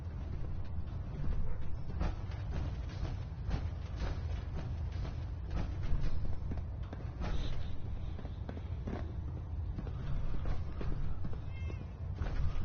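A cat meows repeatedly in the Fallout 4 video game over a steady bed of game ambience, with faint footstep-like steps mixed in.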